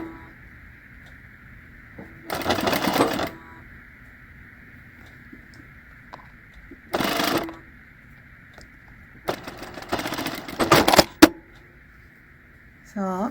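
Home sewing machine stitching dress straps in short bursts, three or four separate runs of rapid whirring stitches with quiet pauses between, close and moderately loud.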